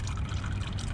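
Used engine oil from a 2018 Subaru WRX oil change is poured into a jug, a continuous close glugging liquid pour with no talking.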